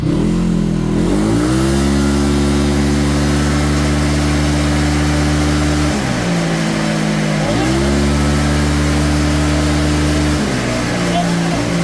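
Motorcycle engine held at full throttle on a dyno bed, a loud, steady roar that dips and climbs again twice as the revs shift, with no break in the sound.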